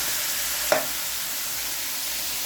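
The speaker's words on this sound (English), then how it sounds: "Alright, mix it around." Food sizzles in a frying pan with a continuous close hiss, broken by a single sharp clack of a utensil as it is stirred.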